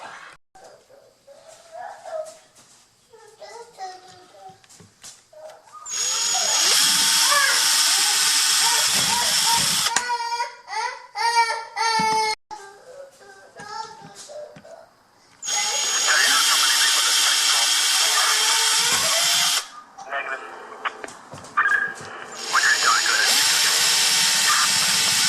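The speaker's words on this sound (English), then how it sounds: "I'm going to drill holes in the mounting bracket first" A power drill bores holes in a metal mounting bracket for a 2001 Dodge Dakota speaker replacement, in three loud, sustained whining bursts of several seconds each, with quieter handling noises and brief sounds between them.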